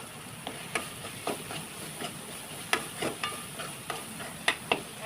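Spices frying and being stirred in hot oil for roasted eggplant bharta: a steady close sizzle with repeated sharp scraping clicks of a spoon against the pan at irregular intervals, no talking.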